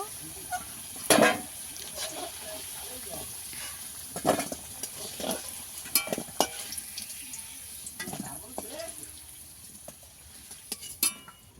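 Potatoes browning in hot oil for a Bengali chicken and potato curry, a soft steady sizzle under occasional clinks and scrapes of a stirring spoon against the pan, close and low in level.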